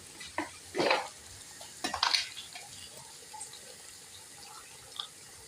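Tomato paste and spices being stirred into aloo chicken curry in a hot pan. A few close scraping stirs come in short bursts over a faint, low sizzle.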